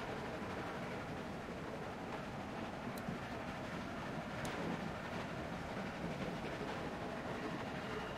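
A moving train in The Walking Dead game gives off a continuous loud rumble with clattering wheels, and brief metallic squeals cut through twice.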